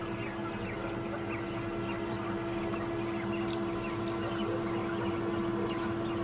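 Quail kept in layer cages on a quail farm, a dense continuous chorus of small clucking birds with scattered short calls over a steady hum, close and fairly loud, with no talking.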